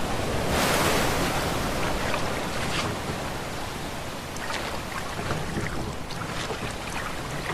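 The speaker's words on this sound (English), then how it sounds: "Waterfall!" Loud, continuous rushing water surges around a paddled boat approaching a waterfall in the video game A Way Out, a broad roaring wash with brief splashing swells and no speech.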